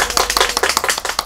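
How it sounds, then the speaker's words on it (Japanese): Audience applause at a live-streamed evening event, a quick run of sharp claps from a modest crowd, close and fairly loud, with no talking over it. "今日は拍手が大きいですね。"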